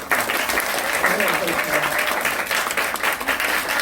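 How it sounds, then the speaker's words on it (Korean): A theater audience at a film screening Q&A claps loudly and continuously, a thick sustained round of applause for the guests, with some voices mixed faintly underneath. "함께 큰 박수 부탁드립니다"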